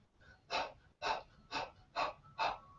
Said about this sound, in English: Now if you want to practice fire breathing is like